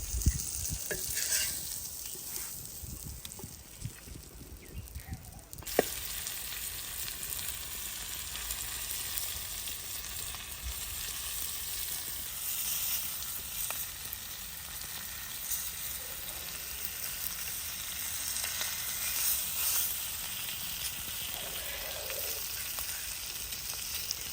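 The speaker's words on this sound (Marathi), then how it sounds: "मासा व्यवस्थित चव बाजूने डीप फ्राय करून घ्यायचा" Stuffed pomfret fish deep-fry in oil on a tawa with a continuous, fairly quiet bubbling sizzle. A brief clatter near the start breaks it, and then the fizz carries on steadily.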